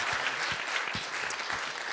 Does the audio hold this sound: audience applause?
yes